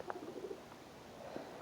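Soft dove-like cooing, a few low hollow calls in a short sequence, faint against a quiet room background.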